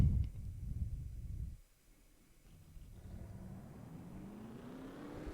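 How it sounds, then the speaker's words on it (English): Race car engines fire up in the NASCAR Racing 2003 sim at Auto Club, a low rumble that cuts out briefly before a rising engine whine builds steadily, with no speech. "Drivers, start your engines!"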